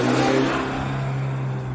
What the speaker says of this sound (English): There's a truck trying to prove how loud he can drive.